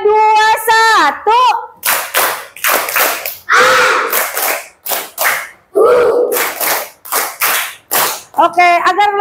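A classroom of children performs a rhythmic clapping chant, repeated bursts of group clapping in a steady pattern interleaved with loud chanted calls and responses.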